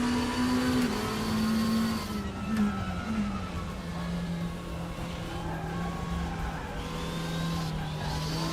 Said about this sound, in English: I love the turbo sound.